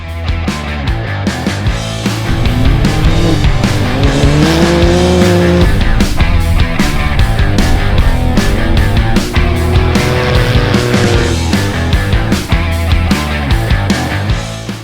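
A dirt motorsport rally car at the Perenjori 360 in 2021 drives hard. Its engine sounds loud and close, revving in rising sweeps through gear changes before settling into a sustained roar.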